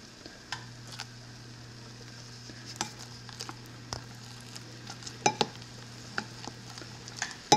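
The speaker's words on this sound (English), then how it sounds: "And then I'm gonna mix up the cream cheese, and we'll mix it back into" Spoon stirring cream cheese into a pot of soup: soft scattered scrapes and light taps against the pot, quiet and close, over a low steady hum, no talk.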